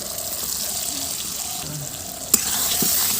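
Spices for a village-style chicken curry (cumin paste, salt and turmeric) sizzle in a pan, a steady frying hiss with faint scraping and a sharp clink partway through.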